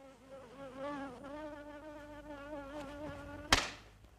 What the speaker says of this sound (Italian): Una zanzara.